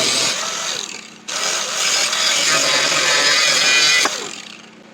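A power saw cuts a plow mount piece to length, a loud continuous whining buzz with a short break partway, then running steadily before winding down.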